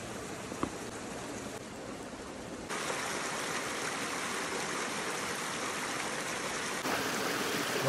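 River flowing at a camp, a steady soft broadband rush of water with no pauses, growing slightly louder partway through and heard alone.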